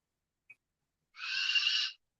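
A bird, tagged as an owl, gives one short call and then a sustained, fairly loud hooting cry lasting under a second, heard alone against silence.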